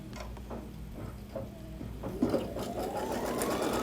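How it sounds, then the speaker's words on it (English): An embroidery machine runs a tacking stitch on fabric, a steady close mechanical whir with a rapid ticking rhythm that grows slightly louder and busier toward the end, with no talking. "we're gonna go ahead and run the tacking stitch."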